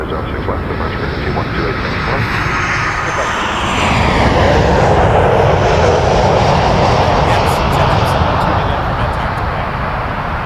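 A jet airliner lines up on runway 06 left at Toronto Pearson Airport, its engines giving a loud, steady roar that swells midway, while radio chatter sounds over it.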